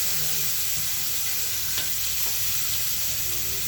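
Garlic and tomatoes hit a hot frying pan with a constant, close sizzle and hiss that stays loud throughout, with faint stirring scrapes and no talk.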